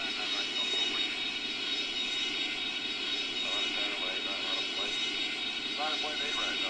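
Airbus A321 jet engines roar during takeoff in the Airline Commander flight game, a continuous loud rumble and whine under synthetic cockpit callouts and voices.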